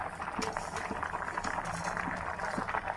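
Mustard and cumin seeds crackle and splutter in hot oil in a pan for a coconut dal tempering, a steady dense hiss with scattered pops, fairly close and with no talking.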